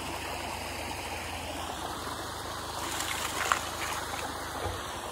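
Water from a restored natural stream waterfall rushes and splashes steadily, a dense broadband wash that stays close and constant throughout, with no voices.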